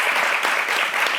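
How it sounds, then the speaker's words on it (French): A dense burst of audience applause at a Christmas family TV game show, loud and continuous with many hands clapping close together, no talk over it. "On l'applaudit."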